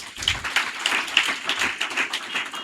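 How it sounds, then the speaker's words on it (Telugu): Congregation clapping during an evening special prayer meeting, a dense crowd of hands beating in a loose rhythmic patter, close and fairly loud from start to finish. "చప్పట్లు కొట్టండి"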